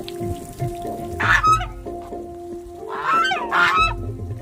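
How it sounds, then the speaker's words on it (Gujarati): Ducks honk and call in two loud bursts beside a small pond near Govardhan hill, with outdoor background noise between the calls. "વાહ બતક કેવું બોલાવે"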